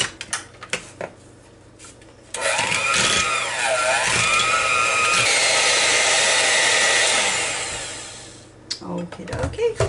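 An electric hand mixer whirs through cheesecake batter, a loud steady buzz that rises in pitch and dips as the beaters move, then winds down, with clattering and light kitchen noise before and after.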